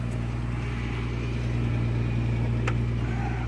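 A 1990 Jaguar XJS convertible engine runs at a steady idle, a constant low hum with a strong even drone, close and loud, with a brief faint click partway through.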